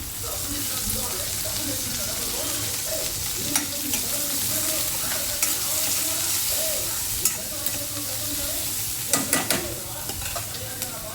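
Onions frying in a pan for an amaranth-leaf curry make a steady broadband sizzle with occasional stirring scrapes and clicks, close and continuous, while a faint voice is heard under it.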